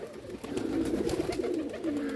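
Close pigeons coo steadily in low, rolling, overlapping calls at a pigeon rooftop where female flying pigeons are kept.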